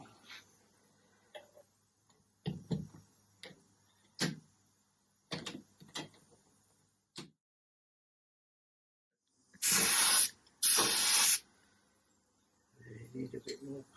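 A spray gun sprays paint on a Sunbeam Alpine during a home respray, two loud hissing bursts of about a second each, preceded by clicks and handling knocks.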